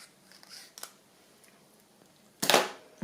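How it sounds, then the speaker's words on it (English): Scissors cut through quilting fabric scraps, a few faint snips early on, then one loud, crisp close-up cut near the end, with no talk over it. "I'm just going to grab the scissors and just cut that piece off."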